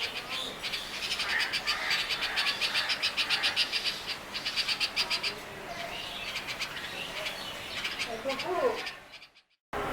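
Red-vented bulbuls call repeatedly from a hibiscus tree in a home garden, bright chirping phrases in rapid bursts at moderate distance, with other birdsong around, until the sound cuts off near the end.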